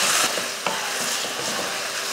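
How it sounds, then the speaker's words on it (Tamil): Drumstick, brinjal and tomato sautéing with turmeric and salt in a pan, a close constant sizzle broken by short scraping stirs. "தக்காளி காய் எல்லாம் நல்லா வதங்கட்டும்."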